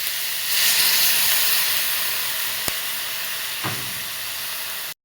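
Onion and bell pepper are stir-fried in a pan, giving a loud, steady hiss of sizzling oil throughout, broken by one sharp click and a soft knock; the sound is close and there is no talking.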